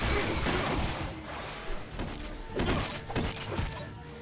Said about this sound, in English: this wall needs to be destroyed